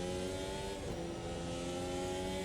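A simulated 2022 Formula 1 car engine in a racing video game whines at a high pitch, steady, its pitch dipping briefly then holding, loud and continuous with no voices.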